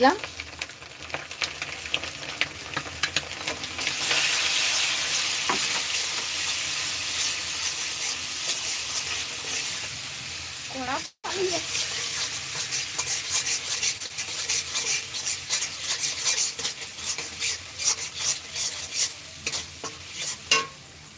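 Ginger, garlic and tomato paste fries in a pan for tadka dal, giving a steady, close sizzle broken by rough scraping stirs. A brief dropout comes midway, then the sizzling and stirring carry on.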